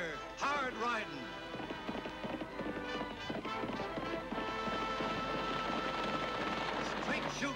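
Horses gallop in an Annie Oakley western, their quick clip-clopping hooves running under a loud narrating voice and dramatic music.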